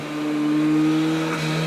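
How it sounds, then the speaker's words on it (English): An Ariel Atom 4 engine holds a loud, steady high-pitched whine against the rev limiter for under two seconds, with a voice talking over it. "you see I'm hitting the rev limiter"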